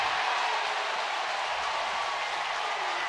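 A baseball crowd at an Auburn versus Milwaukee game roars and applauds after the game's first strikeout, a dense, even wash of cheering that holds steady for the whole stretch.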